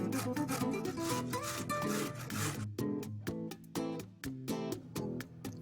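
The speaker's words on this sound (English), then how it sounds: "I'm also going to grate in some cauliflower and some carrots as well." Cauliflower and carrots are rubbed against a grater in quick rasping strokes, a dense run at first and then separate scrapes in an uneven rhythm, close and fairly quiet.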